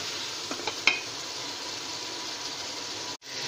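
Beef with turmeric, bay leaves, nutmeg, mace and chaat masala fries for haleem, a steady, close hiss of sizzling with a few light stirring clicks and a brief scrape near the end.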